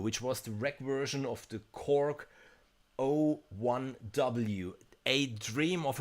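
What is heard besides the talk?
No distinct noise like a dog, phone or traffic.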